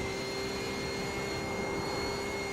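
Steady high-pitched drone of a BMW GT3 race car engine in the iRacing sim at Road America, a continuous loud whine with fixed tonal lines and no shifts or talking.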